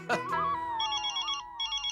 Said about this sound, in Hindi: अच्छा, ऑफिस से फोन है